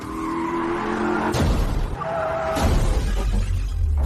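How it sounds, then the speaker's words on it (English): A car skids along a cliff-edge road and crashes: a steady engine and tire tone gives way to two sharp, loud impact bursts about a second apart, with scraping and rumbling between and after them. "His car was pushed over the cliff."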